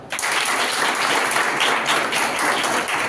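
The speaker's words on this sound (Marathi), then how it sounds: "टाळ्या वाजवा" An audience claps steadily through the whole stretch at a talk or speaking demonstration, a loud, dense wash of many hands with no voices over it.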